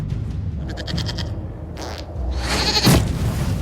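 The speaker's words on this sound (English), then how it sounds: "we discovered this man attacking the building with a goat." In the Dragon Age: Inquisition video game, a goat gives a series of loud, close bleats, repeated in quick bursts, with no talk over them.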